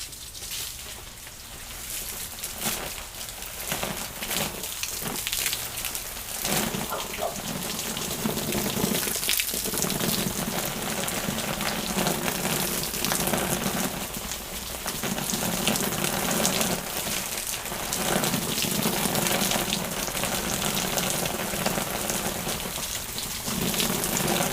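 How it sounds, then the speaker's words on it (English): A steady wash of water dumped over a Local Lion 24L backpack, a continuous rain-like pattering and splashing on the fabric that stays loud and close throughout with no voices. "we are going to dump some water on this thing"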